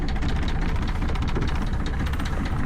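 A sailboat's engine revs hard with a dense, continuous low rumble and rattling vibration, loud and close throughout.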